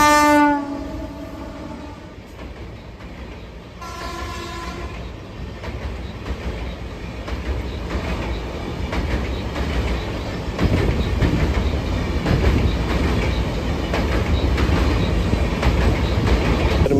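A passenger train near Khopoli waterfall sounds a loud multi-tone horn in two blasts, then rumbles past with a rising, sustained roar of wheels and carriages close by.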